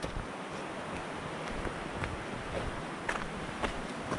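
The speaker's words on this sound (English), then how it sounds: "Big river down to the left, which you can hear, but can't really see it." A big river rushes below a wooded mountain trail during a long-distance trail race, a steady broadband roar of flowing water heard from a distance, with occasional light footfalls and rustles on top.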